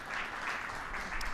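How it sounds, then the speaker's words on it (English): Applause from a conference audience at a cryptocurrency summit, a brief stretch of dense, steady clapping at moderate distance with no talk over it. "let's give him a round of applause and welcome"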